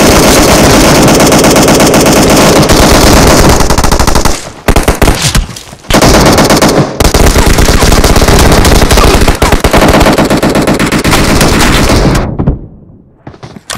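Sustained automatic gunfire from PUBG battle royale gameplay, loud and close, with a dense rapid stream of shots broken by a few short pauses before cutting off near the end.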